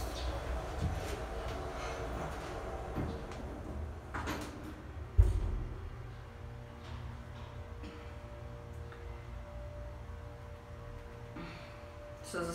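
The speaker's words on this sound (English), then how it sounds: "Door close works." ThyssenKrupp Impulse elevator door in a small elevator at a professional center, sliding shut with a rumbling glide that ends in a soft thump, then a quiet hum and faint tones.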